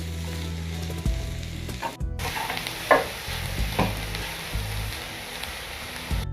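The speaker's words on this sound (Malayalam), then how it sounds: "ഇനി ഇതെല്ലാം കൂടെ നന്നായിട്ടൊന്ന് മിക്സ് ചെയ്യണം" Sautéed onion, ginger, garlic and curry leaves stirred into clam meat in a pan, a soft steady sizzle with a handful of distinct spoon scrapes and clinks spread across the stirring.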